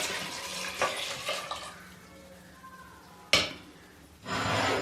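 Water poured into a cooking pot holding chopped fresh peaches, a broad splashing pour that comes in short bursts with a louder rush near the end, close and alone with no talk.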